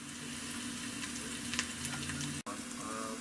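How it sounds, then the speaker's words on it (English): Pork loin searing in a hot pan for a herbed roast, giving a steady broadband sizzle and crackle with a few sharper pops, close and continuous, with a brief dropout near the end. "while we're searing our meat and getting it all nice and brown"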